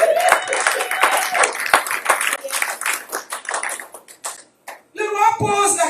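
A church congregation claps to acclaim the Lord, with sharp uneven hand claps that thin out into scattered taps and then stop, followed by a short burst of music or a voice.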